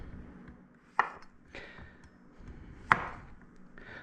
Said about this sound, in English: get these zucchini julienned up and sauteed